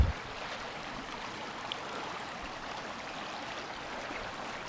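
A stream at Harry's Run along a hiking trail rushes steadily, a soft, continuous watery wash at moderate distance with no voices.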